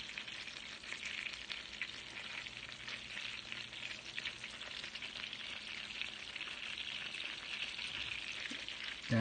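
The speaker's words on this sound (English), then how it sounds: "You can hear them sizzling." Steady, close sizzling of meatballs frying in a pan, a continuous crackling hiss with no talking.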